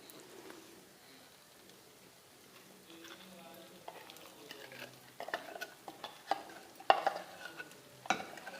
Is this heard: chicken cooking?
yes